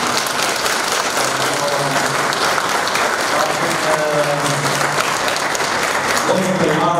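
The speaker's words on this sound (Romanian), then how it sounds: "vreau niște aplauze" An audience at a carol concert given by a men's choir in Cucuieti applauds in a dense, steady, loud wash of clapping throughout, with faint voices calling out underneath.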